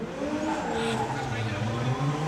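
Formula Drift Japan competition cars drifting in tandem, engines roaring and tires squealing steadily for the whole moment, with a commentator talking over the din.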